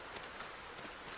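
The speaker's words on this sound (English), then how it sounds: "You can really hear it's raining." Steady rain falls in the Project Zomboid video game, a soft continuous broadband hiss with faint patter throughout, no voices.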